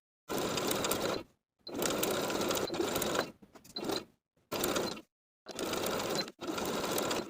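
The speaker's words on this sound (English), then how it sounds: "Baste the elastic in place, stretching from point to point with your zigzag stitch of a 3mm width and 4 length." A sewing machine zigzag-basting elastic onto a swimsuit, running in several short close bursts separated by silent pauses, with no talk.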